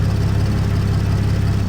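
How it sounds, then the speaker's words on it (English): A BMW 340i engine idles smoothly and steadily up close, a loud, even low hum with a fine regular pulse and no talking. "the car's idling fine"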